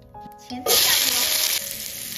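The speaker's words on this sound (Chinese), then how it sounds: "前菜下锅" Vegetables hit a hot wok in a rural kitchen in northeast China, a sudden loud sizzle that bursts in after a few clinks and settles into steady frying.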